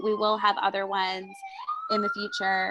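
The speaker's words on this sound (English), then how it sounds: "Pardon the sirens, New York City." Wailing emergency siren on a New York City street, a rising tone sweeping up mid-clip, heard in the background beneath a woman's speech.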